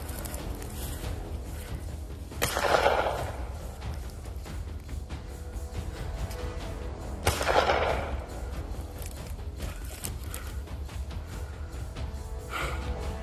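Two distant gunshots, a few seconds apart, each a sharp crack with a short echo over steady outdoor background noise.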